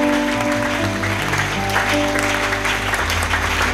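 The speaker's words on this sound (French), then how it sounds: "Si on peut l'applaudir." A church congregation applauds its pastor, a continuous wash of many hands clapping at close range over sustained keyboard tones, with no talking.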